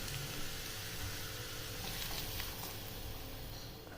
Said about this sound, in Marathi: ही खरपूस आणि खमंग फोडणी आता कैरीच्या किसावर टाकून द्यायची आहे